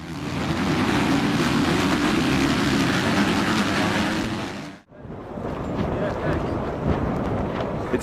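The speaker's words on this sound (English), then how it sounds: "It's so windy here" Strong wind buffets a high-altitude mountain camp at 4,200 meters, a loud continuous roar blasting the microphone that briefly drops out before resuming just as hard.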